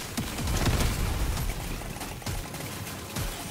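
Rapid gunfire from a sharpshooter scout's weapon in the video game Deep Rock Galactic: Survivor, a dense crackle of repeated shots with low impacts, steady and loud throughout with no talking.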